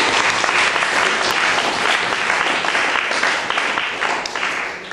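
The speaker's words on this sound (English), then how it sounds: "Clive, another applause." Sustained applause from an audience at an awards evening, a dense, even wash of many hands clapping close by for the full stretch with no talk over it.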